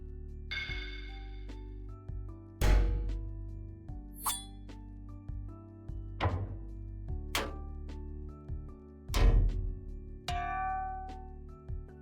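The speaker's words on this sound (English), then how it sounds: "Bullet hit metal." A series of sharp metallic bullet-impact effects for a game in development, each a bright clink or ping with a short ringing tail, fired one at a time with pauses between them over a low steady hum.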